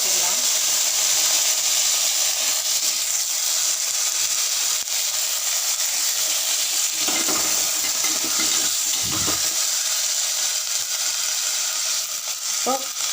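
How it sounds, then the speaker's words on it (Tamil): Eggplant frying in a pan with garlic, onion and tomato in a home village kitchen, a steady close sizzle with occasional stirring scrapes running throughout. "நல்லா வதங்கிட்டோம் இப்போ பூண்டு வெங்காயம் தக்காளி நல்லா வதங்கிருச்சு இப்போ கத்திரிக்காய்"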